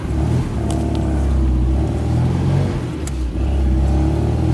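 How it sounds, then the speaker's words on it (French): The engine of a 1974 MG B Cabriolet with a stainless steel exhaust revs up and settles again, a throaty mid-pitched drone rising and dipping over a few seconds, heard close and alone. "Le son est sympa avec cet échappement en inox."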